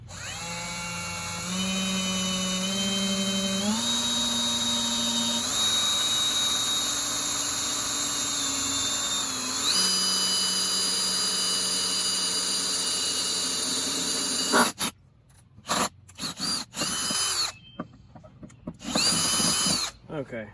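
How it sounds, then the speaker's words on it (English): A power drill bores a hole near the end of a homemade coyote catch pole, running steadily with its pitch rising in steps, then cutting out into short on-off bursts near the end. Loud and close. "you want to drill a hole right here"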